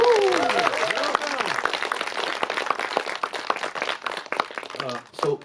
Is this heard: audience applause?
yes